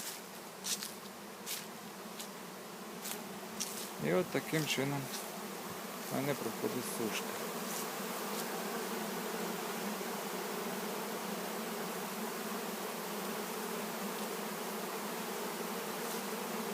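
Honey bees buzz steadily and densely around honeycombs set out to dry, a continuous close swarm drone with a few louder passes near the start and a voice speaking briefly over it.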